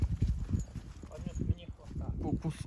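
A mare's hooves clip-clop in an uneven walking rhythm nearby while someone talks over them.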